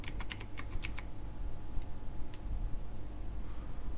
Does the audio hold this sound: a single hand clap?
no